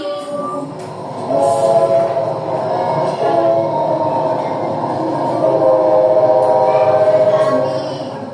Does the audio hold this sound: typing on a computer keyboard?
no